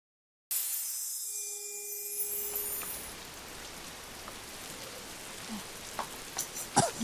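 Rain falling on a sunny day, a steady soft hiss of drops with scattered louder patters and taps on surfaces, fairly near, following a brief bright tone-laden opening.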